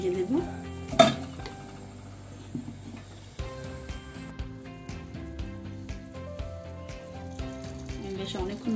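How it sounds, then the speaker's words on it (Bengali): A lid is set over a cooking pot of jackfruit seeds and prawns with a sharp metallic clank, followed by lighter clinks of utensils and a soft sizzle. "আমি এখন এটা ঢেকে দেব"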